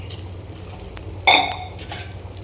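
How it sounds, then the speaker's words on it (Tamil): Quail eggs hit a hot pan with fried onions, a soft steady sizzle broken by a sharp metallic clink of a utensil against the pan and light scraping, close by without talking. "இந்த டைமில் வந்து நம்ம காடை முட்டையை அப்படியே ஊற்றிடலாம் பாத்திரத்துலேயே பாதி ஒட்டிடும்"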